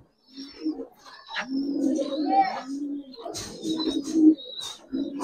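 Several pigeons, Giribaz and silver coloured breeds, coo in low throaty rolling phrases close by, overlapping one another, while a person speaks faintly in the background.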